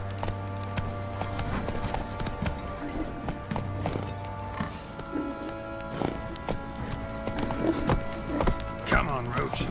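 Horse hooves clip-clopping at pace in the video game Witcher 3, with rhythmic thuds, a whinny and tonal game music and ambience underneath, while someone talks over it.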